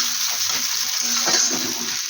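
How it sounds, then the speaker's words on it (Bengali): Sliced onion frying in hot oil in a home kitchen gives a steady, close sizzle with a dense hiss and faint stirring bumps, heard alone without talk. "এখানে পেঁয়াজটা তেলের মধ্যে ছেড়ে দিয়েছি ভাজার জন্য"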